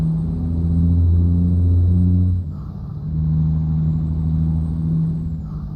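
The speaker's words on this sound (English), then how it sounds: "I think the audience can hear your truck, Treasure." Heavy truck engine in American Truck Simulator, a steady low drone with continuous rumble that dips briefly midway, then resumes, alone without talk.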